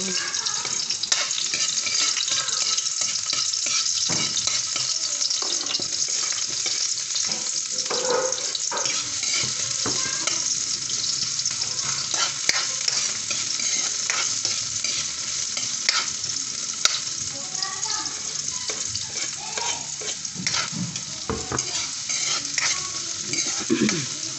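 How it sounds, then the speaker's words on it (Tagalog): Flour is sautéed in a pan for a mung bean stew, giving a constant loud sizzle with frequent scraping and stirring of a utensil against the pan. It runs steadily throughout with no talking. "Gisahin muna natin si flour."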